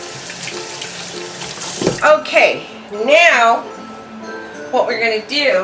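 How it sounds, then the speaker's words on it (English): Water runs from a tap into a pan in a close, steady stream, while a voice talks over it. "I'm just going to add just a little bit of water."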